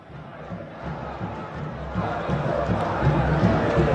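Football supporters at Vila Belmiro stadium during Santos versus Coritiba, a dense, continuous crowd roar with chant-like swells that grows louder and fuller over the last two seconds.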